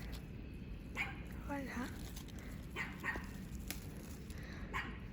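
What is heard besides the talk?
small dog barking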